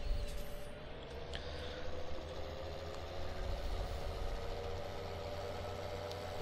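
A tractor engine in Farming Simulator 2017 runs at a low, steady idle-like rumble with faint rising tonal whine, continuous and fairly quiet throughout.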